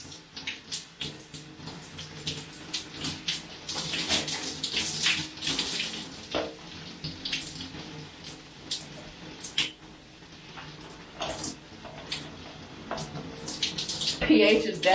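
Tap water runs steadily while hair is rinsed, a close, continuous splashing and hissing with irregular bursts as the stream hits hair and skin, with no talk over it.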